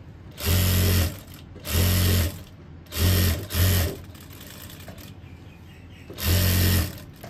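Stitching along a shirt collar edge, a sewing machine runs in five brief loud bursts of fast mechanical whirring, two close together midway, with quiet gaps and light fabric handling between.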